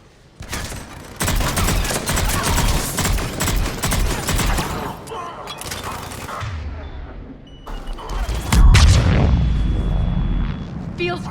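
Dense gunfire in a Mass Effect 3 firefight on Omega, rapid bursts of automatic shots close and loud for several seconds, then a pause with voices and a heavy blast followed by more shooting.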